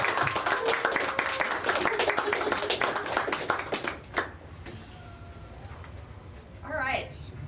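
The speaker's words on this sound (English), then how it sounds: "another round of applause for those wonderful" Audience applause at a writers' conversation event, a sustained round of clapping from a room of listeners that fades out, followed by a voice speaking.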